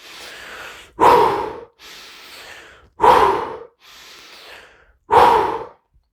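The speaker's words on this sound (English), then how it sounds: "suddenly I get the urge to do some very deep breathing exercises. Basically, I'm breathing like this." Deep, deliberate breathing exercise done at close range: three slow hissing inhales alternate with three forceful, louder exhales, each breath lasting about half a second to a second in a steady rhythm.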